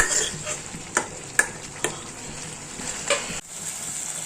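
Quail pieces frying dry in a pan, under a constant sizzle with repeated scraping and clacking strokes of a spatula stirring, close and moderately loud, no voices.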